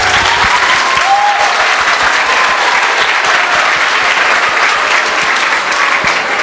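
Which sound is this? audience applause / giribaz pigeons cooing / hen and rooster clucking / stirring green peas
audience applause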